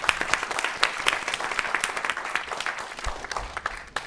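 An audience applauds a finished talk at a panel on defamation law reform, with dense, steady clapping from many hands that stays loud and even throughout.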